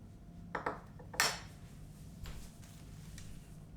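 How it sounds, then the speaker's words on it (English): Homemade lavender body lotion being stirred in a bowl, a few light clinks and scrapes of the utensil against the bowl, close and quiet with gaps between strokes. "I'm just mixing everything in so it's well mixed and has a good consistency"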